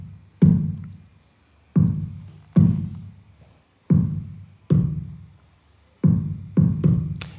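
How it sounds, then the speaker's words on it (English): A programmed kick drum pattern in Logic Pro X plays as seven deep, punchy thumps, each one decaying quickly, in an uneven syncopated rhythm with short silent gaps between hits. "So that this is what the kicks sound like."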